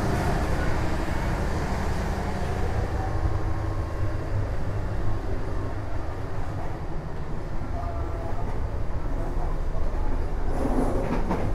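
Steady loud rumble inside a 2003 train dining car coupled to a generator car, with a constant droning generator hum underneath, continuous and unbroken throughout.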